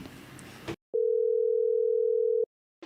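A single steady phone tone sounds for about one and a half seconds while a call is placed, loud and clean, with brief background noise just before it.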